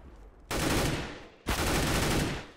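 Gunfire in a professional Counter-Strike match on the Overpass map, Titan versus TSM in the ESL Pro League: two loud, sustained automatic bursts, each starting sharply and lasting about a second, with no talk.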